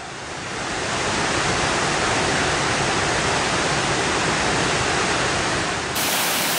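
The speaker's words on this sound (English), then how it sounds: "The water falls in a great pressure so that it's very relaxing to bath over here." Heavy waterfall at Thiruparappu in Kanyakumari pours with great pressure into a bathing area, a loud, steady broadband roar that fills the whole span without pause and close at hand.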